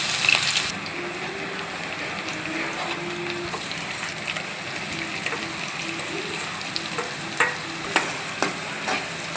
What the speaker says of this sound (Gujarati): આપણું તેલ ગરમ થઈ ગયું છે તો આપણે બધી જ વસ્તુ અંદર એક એક કરીને એડ કરી દઈશું